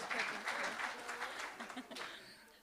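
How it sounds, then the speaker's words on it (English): A community dialogue audience gives a sustained round of applause, dense clapping holding steady for a few seconds before tapering slightly. "Give a round of applause to everyone."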